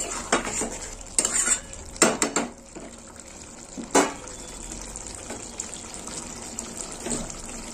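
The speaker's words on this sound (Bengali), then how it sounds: "একটু ভালো করে দেখি, মেরে চেড়ে দেখি।" Cauliflower curry stirred in a pan, with clattering spoon scrapes and clinks against the metal in quick bursts, then quieter wet stirring and a low background hiss, close by and without speech.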